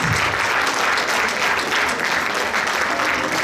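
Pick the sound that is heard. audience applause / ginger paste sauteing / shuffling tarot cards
audience applause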